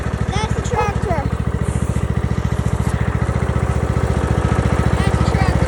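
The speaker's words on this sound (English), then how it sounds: "I'll see it running for this next little part. That's the tractor." A small tractor engine runs steadily throughout with a rapid, even, chugging pulse, loud and close, while someone talks over it.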